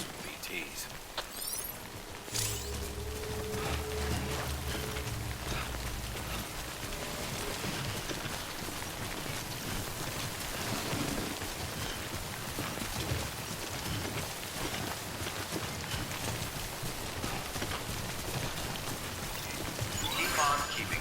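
Steady rain pours down across an outdoor scene in the Death Stranding video game, a dense, continuous hiss that runs loud throughout, with a few heavier splashes and brief game sounds near the start.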